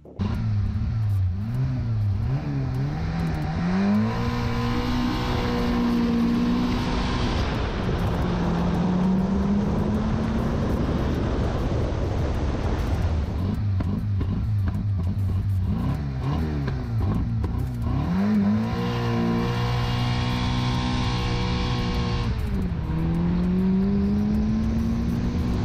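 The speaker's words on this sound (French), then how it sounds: "La Corsa, le 0 à 100. Alors, je vous avais promis un 0 à 100 en 6 secondes." An Opel Corsa accelerates hard from 0 to 100 km/h, its engine note climbing in pitch through several gear changes, each shift dropping the revs before they rise again, loud and sustained from start to finish.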